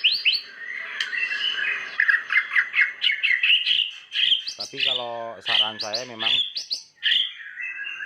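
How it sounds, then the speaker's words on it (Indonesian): A songbird recovered from a cough calls with rapid chirps, trills and harsh squawky notes, close and loud, while someone talks over part of the singing. "Burungnya memang mantap sekali ya. Nah, sudah pulih, suaranya pulih."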